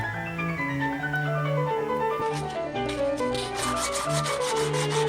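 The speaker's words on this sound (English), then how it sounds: "I use sandpaper to make the surface even smoother." Sandpaper rubs over the hardened plastic surface of a 3D-pen model train part, with rapid rasping strokes in the second half beneath steady background music.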